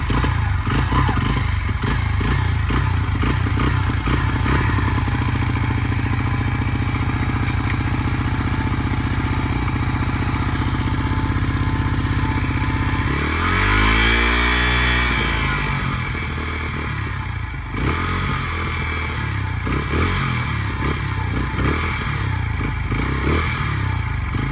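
A Honda XR80 dirt bike engine with choke on runs in a loud, continuous buzz close by, its pitch swelling in a brief rev midway before settling back to a steady idle.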